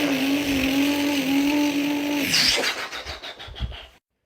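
A human voice imitates a Duramax diesel truck engine: a steady droning hum for about two seconds that breaks into sputtering, fading pulses before cutting out, heard alone.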